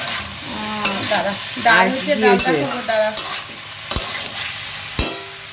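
Mixed vegetables with Malabar spinach fry and get stirred in a pan, a loud close sizzle broken by a few sharp scraping strokes of the spoon.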